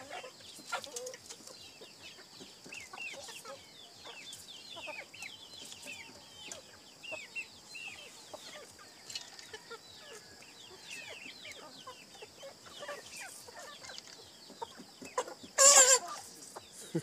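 Chickens cluck and chatter softly in a busy yard, with scattered rooster calls and one sharp, loud squawk near the end.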